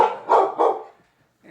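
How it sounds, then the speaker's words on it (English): A dog at a riverside house barks three times in quick succession, loud and close, then a short pause before another bark starts. "And the dog."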